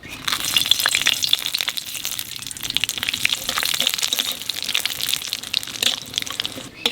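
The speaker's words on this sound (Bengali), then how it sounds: "তেলের উপর দিয়ে দেবো শুকনো লঙ্কা, তেজপাতা, জিরে।" Dry red chilli, bay leaf and cumin crackle and sizzle in hot oil with a dense, continuous spitting hiss that stays near and fairly loud throughout, and no voices are heard.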